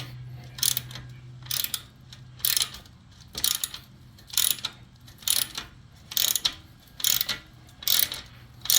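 A hand ratchet cranks in about nine evenly spaced bursts of sharp, close clicking, separated by short pauses, while tightening the clamps of Vance and Hines Straight Shot slip-on exhausts on a 2013 Harley-Davidson Super Glide.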